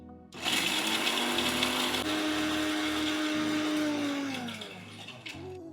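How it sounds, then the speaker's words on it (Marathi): A mixer grinder whirs loudly at high speed grinding roasted chickpeas, its motor pitch shifting as the jar contents grind down, then winding off near the end. "त्याला आता मिक्सरच्या पॉटमध्ये बारीक करून घेऊया"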